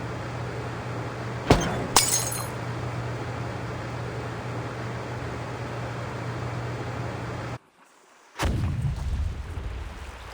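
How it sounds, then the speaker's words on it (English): An explosion near a clinic in the video game Reverse: 1999, heard as two sharp bursts with breaking glass and debris over a low steady hum, followed by a roaring rumble, a sudden brief dropout, then renewed rumbling noise. "Sounds like some kind of explosion near the clinic."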